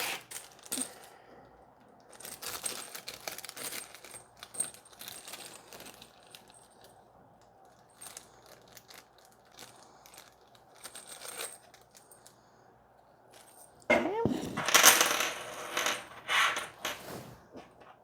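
Small metal M3 by 30 screws are handled and dropped, light clinks and jingling rattles in irregular clusters, quiet at first and louder near the end, with no talk.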